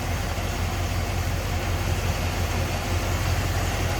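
1965 Buick Sport Wagon Custom engine idling smoothly, a steady low rumble with a continuous even drone, close and alone without talk.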